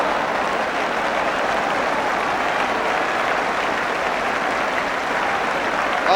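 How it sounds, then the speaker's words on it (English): A football crowd at a Spurs versus Brighton match applauds around the ground, a dense, sustained wash of clapping that holds steady throughout. "applause all around the ground for that"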